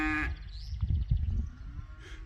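A few head of cattle on a rural property: a single cow lets out a deep, close, drawn-out moo lasting nearly two seconds, with faint outdoor ambience around it and no speech.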